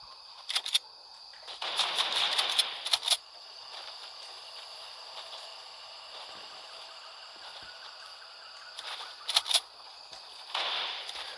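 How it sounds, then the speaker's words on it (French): Bursts of distant gunfire in a battle royale video game come as rapid clusters of sharp shots, separated by quieter stretches of steady background ambience. "Là-bas, il y a des tirs"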